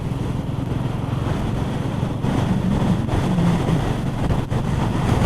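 A passing motorbike on an open road, heard from another motorcycle, a Royal Enfield Meteor 350, with steady engine rumble and heavy wind buffeting throughout, the passing bike swelling slightly midway.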